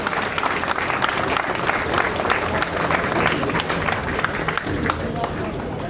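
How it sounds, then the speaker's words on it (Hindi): Applause from an audience at a World Cancer Day awareness event: sustained, dense clapping from many people, steady and fairly loud throughout, with crowd murmur beneath. "जोरदार तालियों से हार्दिक अभिनंदन करेंगे doctor Kamal, urban development and housing. जोरदार तालियां हो जाए."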